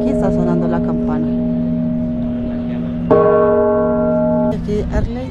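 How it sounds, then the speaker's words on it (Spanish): Church bells ring near Plaza de la Constitución in Mexico, loud sustained strikes swelling midway over street noise and crowd murmur, with people talking nearby. "está sonando la campana"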